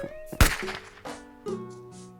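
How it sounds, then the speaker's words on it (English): A tree shooting the player in a platform video game set in a forest of evil trees, one sharp thunk-like shot followed by short tonal game effects and chimes. "where I got shot by the stupid tree for the 100th time"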